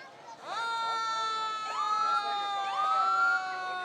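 A vintage fire truck from the Hudson Fire Department, engine number 1, sounds its siren in a small-town Booster Days parade. The siren wails up in pitch again and again, clear and fairly loud over faint crowd noise.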